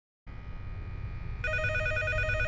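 A telephone rings in the horror game Five Nights at Freddy's Reworked, set in a pizza joint: a steady electronic ring over low room hum, with a bright tonal pattern starting partway through, close and continuous.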